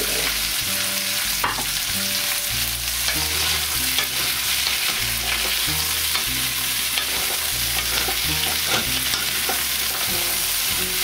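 Vegetables stir-frying together in a pan over moderate heat, a continuous loud sizzle with scraping and stirring clatter running steadily throughout, close up and with no talking.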